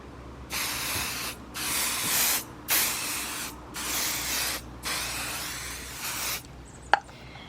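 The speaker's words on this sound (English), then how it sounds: "I'm going to spray the back of my top here." Five steady bursts of aerosol basting adhesive spray hiss out in a regular rhythm onto the back of a quilt top, each lasting about a second, followed by a brief sharp tap near the end.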